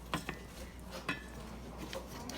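A spoon stirs peanut butter and quick cooking oats into a mixture in a pot, making quiet scrapes and a few light clinks against the metal.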